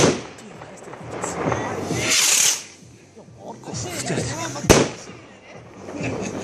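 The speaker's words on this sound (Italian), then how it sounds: "Bombardamento a terra aria." Ground-to-air fireworks barrage at a New Year celebration in Amaro, Udine, with scattered crackling bursts and one sharp bang, heard at a distance under people chatting nearby.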